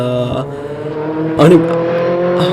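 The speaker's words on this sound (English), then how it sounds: "It sounds like a Civic. You can really hear it." A 2015 Honda Civic Type R engine hums steadily with a harmonic drone on the Nordschleife, rising in a brief revving surge midway, with voices talking over it.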